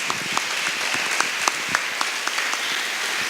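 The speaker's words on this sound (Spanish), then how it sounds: "os ruego un magnífico aplauso para estos dos grandes" An audience applauds two speakers at a rural women's gathering in the Valencian Community, a steady, dense wash of many hands clapping with a few sharper individual claps standing out.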